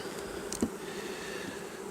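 Honeybees buzzing steadily at an open hive while frames are inspected in late July, a soft continuous drone with a brief knock or handling sound partway through.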